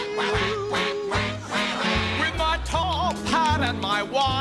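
A singing voice imitates a duck, quacking repeatedly in rhythm over a lively big-band musical accompaniment with horns and bass.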